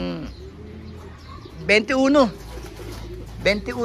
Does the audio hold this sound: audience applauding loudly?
no